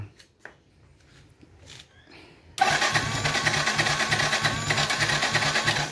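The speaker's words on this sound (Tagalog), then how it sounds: "Sa umaga, o kahit hapon, basta cold start, may problema siya. Ayaw niya umandar." A Yamaha FZ16 motorcycle struggles through a hard cold start: a few faint clicks and rattles, then an abrupt loud engine roar that holds steady with a rough, pulsing low throb.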